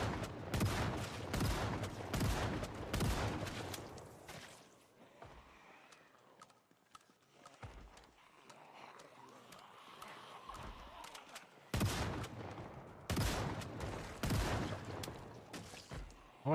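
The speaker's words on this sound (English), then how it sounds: "I hear gunshots in the distance" Far-off gunfire in the Project Zomboid video game comes as rapid bursts of repeated shots. They fill the opening seconds, fall quiet through the middle, and return near the end, sounding distant and rattling.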